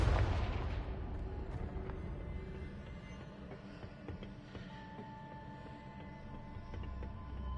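A Confringo blasting spell bursts in Hogwarts Legacy with a loud, booming explosion at the start, then a rumbling low roar that trails off beneath a steady game soundscape.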